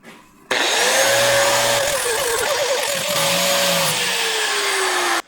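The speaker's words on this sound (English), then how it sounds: "Flat disc, grinding wheel, get all the scale off, and get it down to sound metal." Loud, continuous whine of an angle grinder with a flat disc sanding scale off metal, its pitch dipping and wavering under load, then cutting off abruptly.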